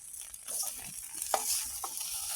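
Nasi goreng fries and spatters in a pan outdoors in a garden, with a broad steady sizzle and sharp crackling pops while it is stirred close by.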